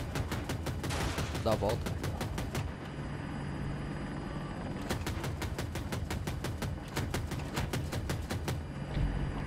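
Rapid bursts of cannon fire from an Apache attack helicopter in the video game Battlefield 2042, two dense volleys separated by a pause, set over a steady rotor and engine drone, with a brief spoken comment partway through.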